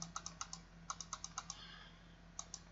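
Keys pressed on a graphing calculator keypad, quick bursts of small, close, crisp clicks in uneven groups with short pauses, faint and alone.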